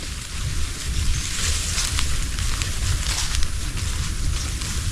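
Steady rain falls outdoors, a dense continuous hiss with pattering on surfaces and a low rumbling undertone, constant throughout with no voices.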